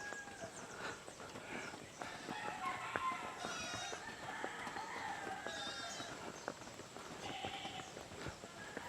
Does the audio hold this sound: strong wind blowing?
no